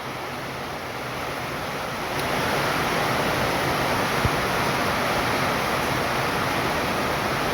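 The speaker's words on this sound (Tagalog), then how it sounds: "Buhos pa ng buhos para makabawi sa init." Heavy rain pours down steadily outdoors in a Philippine yard with guava and bitter gourd plants, a dense continuous hiss that grows louder after a couple of seconds and holds.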